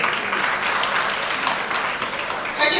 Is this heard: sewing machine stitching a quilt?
no